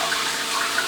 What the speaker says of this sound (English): So I'm just going to rinse my face